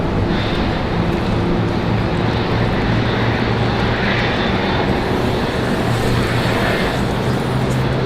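A JetBlue jet departing Raleigh-Durham airport, its engines giving a steady, loud, sustained roar with low tonal hum throughout and no talk over it.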